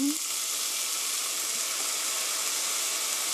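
Dark soy sauce hits a hot pan for a button mushroom rice bowl, setting off a strong, even sizzle that holds steady and close throughout, with a brief voice at the very start.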